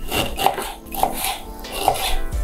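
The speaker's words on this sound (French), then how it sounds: "on va découper le gingembre et le piment" Knife chopping fresh ginger and chili pepper on a wooden cutting board for Japanese cucumber pickles, a few distinct taps spaced about half a second apart over a soft rubbing background, close and fairly quiet.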